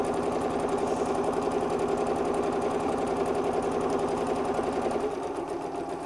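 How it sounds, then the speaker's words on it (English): A sewing machine stitches over a seam line on a tea cosy with a continuous, close, rhythmic whirring hum that slows slightly near the end. "So literally sew over the top of the line."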